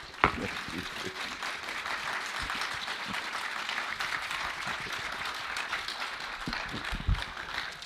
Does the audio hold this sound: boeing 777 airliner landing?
no